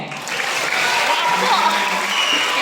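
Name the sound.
audience applause at a lecture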